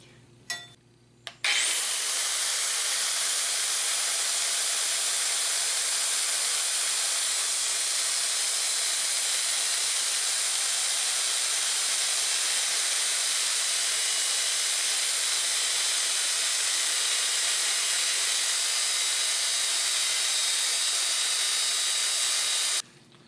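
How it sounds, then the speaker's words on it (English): An angle grinder cutting the ends off steel bolts on a workbench, a loud, steady high-pitched hissing whine that starts abruptly and runs unbroken for about twenty seconds before cutting off. "now we're going to take our angle grinder and cut the ends of these bolts off"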